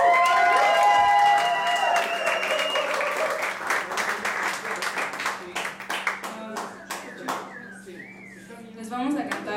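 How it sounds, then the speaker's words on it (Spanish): An audience bursts into applause that gradually thins into scattered claps, with some voices in the room, at a live show in Cauz. "aplauso para Santiago Gutiérrez."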